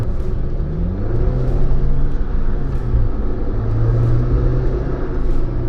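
A 2020 Jeep Wrangler Rubicon driven hard on tarmac gives a steady, loud engine rumble and road roar, its pitch rising and falling slightly as the tail steps out.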